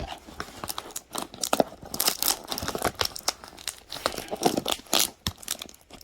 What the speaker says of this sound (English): I'll just break the box. Just rip it open.